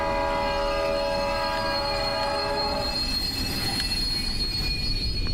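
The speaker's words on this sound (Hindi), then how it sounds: "ट्रेन अपने आप रुक गई क्या?" Train wheels squealing as a train brakes to a stop in a Japanese horror train video game, with a steady high metallic screech over a low rumble that fades near the end.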